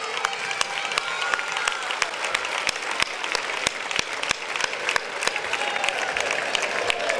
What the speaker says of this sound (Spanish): Quiero mandarle un fuerte aplauso de todos los leganenses.